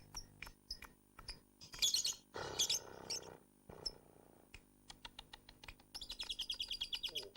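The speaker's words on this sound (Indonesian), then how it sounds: "Coba kita lihat burung yang di studio, Al." Bright, rapid chirps and tweets from a lovebird in a studio, with bursts of louder chattering and a fast trilling run near the end, close and clear.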